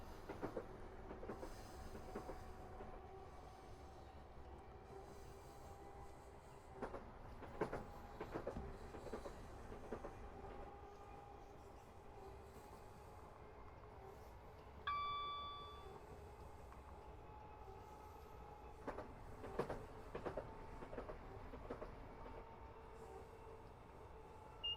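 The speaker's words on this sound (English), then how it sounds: "Here's one of the many trains. That's the service to Brighton." A train on the service to Brighton passes Horley Station, a faint distant rumble with a few clacks of wheels over rail joints and a brief tonal ding partway through, quiet and steady throughout.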